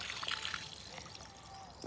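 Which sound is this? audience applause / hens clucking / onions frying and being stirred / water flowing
water flowing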